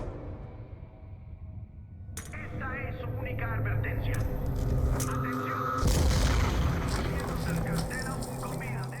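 An explosion in the video game Call of Duty: Black Ops 2 erupts into a loud, broad roar with a second surge of blast noise and rumble, over continuous game sounds.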